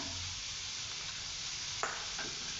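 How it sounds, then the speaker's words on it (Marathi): Onion with a little turmeric sautés in a pan for a potato bhaji, a steady close sizzle with a single brief scrape of the spoon and no voices. "कांदा आता छान आपण परतून त्याला मऊ होऊन देऊया"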